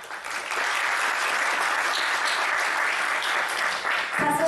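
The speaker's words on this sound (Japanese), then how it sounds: "井口様、どうぞ大きな拍手でお迎えください" An audience at a landscape symposium in Uchiko, Ehime, gives a speaker a big round of applause: dense, even clapping from many hands that holds steady for several seconds before thinning at the end.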